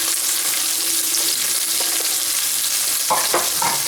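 Onions and carrots fry in a hot pan for a sweet and sour sauce, giving a steady, close, loud sizzle throughout with a few clinks of stirring near the end.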